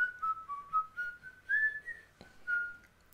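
A man whistles the Norwegian national anthem in the Total Recall film, a clear, steady melodic line with held notes and gentle slides, close and alone apart from one soft knock.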